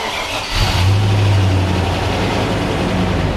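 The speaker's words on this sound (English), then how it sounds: "Let the idle level off, takes about a half a minute." Engine of a 1997 Land Rover Defender 90 just started cold during a transmission service, settling into a steady, close, low idle hum after a short rise in revs.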